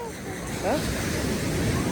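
Sea waves wash up onto Diveagar beach on the Konkan coast in a close, continuous roar, with wind buffeting and a brief voice cutting through.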